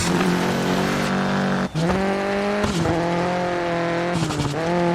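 A rally car in a digital rally game screams through its gears, the engine rising in pitch, dropping sharply at each shift, then climbing again, with faint tire noise underneath, loud and close throughout.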